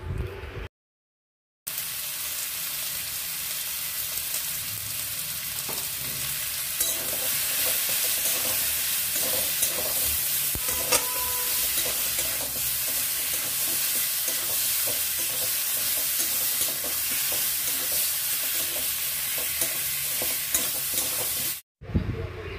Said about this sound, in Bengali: মশলা সবজির সাথে ভালো করে কষিয়ে নেব।